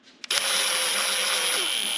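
After a quick knock, a power tool spins up on the track frame of an early Caterpillar D4 crawler to tighten bolts, giving a steady, close, high-pitched whir that holds for nearly two seconds.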